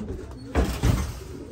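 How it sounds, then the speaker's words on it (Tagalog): A racing pigeon just back from a 150-mile race coos close by in two short, throaty bursts. "Gandang ibon, oh."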